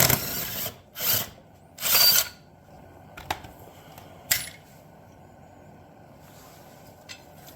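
An impact wrench on a long extension hammers at a blade bolt on an old pre-1958 two-stroke lawn mower. It gives three loud bursts early on, followed by a few sharp metallic clicks and knocks, all fairly close.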